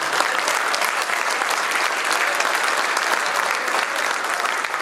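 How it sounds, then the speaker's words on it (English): Sustained audience applause fills a banquet hall at a dirt track racing awards night, a dense, steady wash of many hands clapping at even loudness throughout, with no voices standing out. "So one more time, please give yourselves a big round of applause."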